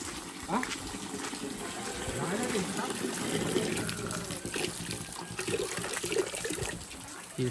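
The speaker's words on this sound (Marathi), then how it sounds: "टाकी आपली पाण्याची ती ओव्हरफ्लो झाले" Water gushes steadily from an overflowing farm water tank being pumped full, a continuous splashing rush close by, with a person talking over it at times.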